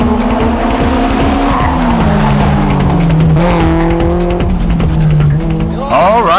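A Mitsubishi Lancer and a Honda S2000 race hard on a mountain road, engines roaring loud and close with tires squealing through a corner, the 4WD versus 2WD battle steady throughout.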